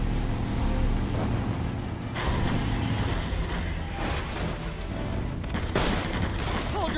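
Gunfire in the video game Beyond Two Souls: a dense, continuous clatter of shots and vehicle rumble fills the scene, with sharper bursts standing out near the middle and end.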